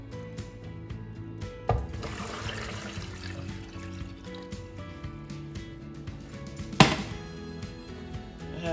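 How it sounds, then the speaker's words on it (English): Water pours into a blender jug already holding chopped beetroot and carrot, a steady splashing fill with a sharper splash near the end and no talk. "So I'm going to go ahead and put some water in it."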